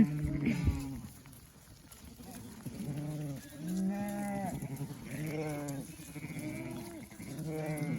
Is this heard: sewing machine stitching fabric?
no